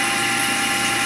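Steady high-pitched machining whine with a constant mechanical hum from a CNC machine peck drilling a Bultaco brake bracket, running continuously without pauses through the short moment.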